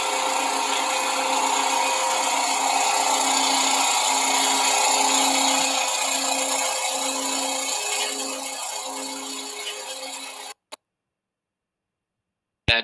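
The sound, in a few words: bandsaw cutting wood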